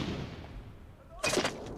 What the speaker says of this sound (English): There's gunfire to the right side, Smith.